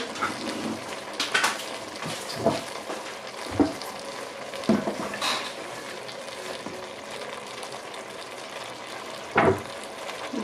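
Zucchini stew with tomato and garlic cooks in a pan, giving a steady frying sizzle with occasional louder stirring clatters and bursts, close and alone without voices.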